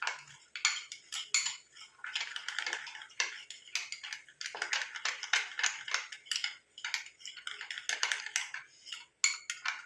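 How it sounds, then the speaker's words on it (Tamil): Spoon mixing a creamy homemade face pack in a small bowl, producing rapid irregular clicking and scraping taps in close succession, up close with no speech. "அதையும் சேர்த்து நல்லா மிக்ஸ் பண்ணிக்கலாம்"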